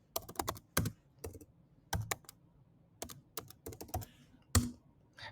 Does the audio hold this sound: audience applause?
no